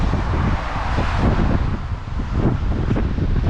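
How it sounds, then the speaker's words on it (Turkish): Strong wind buffets the microphone in a constant, roaring rush, with low rumbling gusts throughout and no speech, in bad rainy weather. "Çok kötü hava ya. Rüzgar var, yağmur var."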